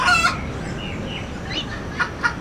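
A chicken on a beach in Trinidad gives a loud, close crowing call at the start, followed by a few short clucks over steady background noise.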